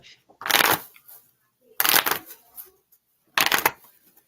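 Tarot cards being shuffled in three quick riffling bursts separated by short pauses, close and crisp, with no talking over them.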